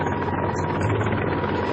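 An Mi-26 heavy-lift helicopter produces a steady, loud, continuous engine and rotor roar with a deep low-frequency rumble that holds level throughout.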